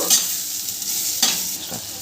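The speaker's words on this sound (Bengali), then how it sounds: "এরপরে আমি একটুখানি আপনার জল দিয়ে দেব" Hot pan of frying eggplant in mustard paste with green chilli, with water tipped in: a steady close sizzle and hiss with stirring scrapes, brief bursts near the start and middle, no talk.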